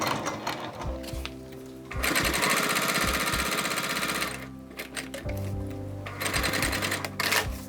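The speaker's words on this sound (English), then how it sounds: "So I sew along my rectangle here." A sewing machine stitches a rectangle on fabric, its needle whirring in fast steady bursts near the mic and stopping briefly between runs as the fabric is turned.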